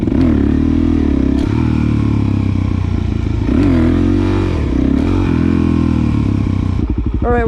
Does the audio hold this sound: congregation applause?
no